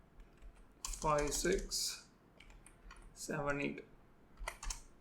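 Quick keystrokes on a computer keyboard as a browser address is typed in, short clicks scattered under and between a man's nearby speech.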